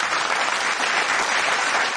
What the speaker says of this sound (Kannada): ಅದಕ್ಕೊಂದು ಚಪ್ಪಾಳೆ